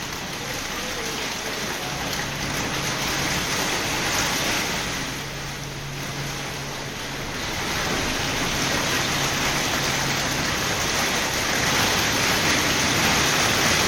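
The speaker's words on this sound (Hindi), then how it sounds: "बन्नू और गिरदोनवा में मूसलाधार बारिश और यालाबारी जारी है।" Torrential rain and hail pour down in Bannu, a dense, loud, continuous hiss and roar of water hitting surfaces that rises and falls slightly in intensity, with no other voices heard.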